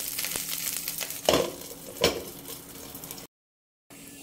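Chuna fish paturi wrapped in banana leaf sizzles steadily in a pan, with two louder scraping stirs partway through. The sound cuts to silence briefly near the end, then the frying resumes.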